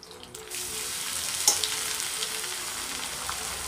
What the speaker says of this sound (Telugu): కొద్దిగా ఫ్రై అవ్వాలి.